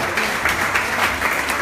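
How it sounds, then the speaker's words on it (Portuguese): Dancers at a kizomba class in Lisbon clap together in a brief, lively round of applause, close and fairly loud, with uneven bursts of hand claps and no speech. "Aplausos!"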